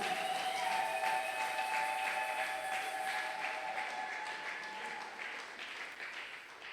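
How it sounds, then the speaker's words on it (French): Church congregation applauding for Jesus during a prayer service, sustained crowd clapping with sustained tonal sounds from the hall running through it, slowly fading toward the end. "Acclame très fort pour Jésus."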